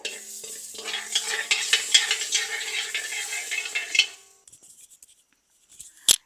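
Fenugreek seeds and spices dry roasting in a pan for homemade chilli powder, with a dense run of scraping stirs and rattling seeds for about four seconds, then near quiet with a few faint taps and one sharp knock at the end.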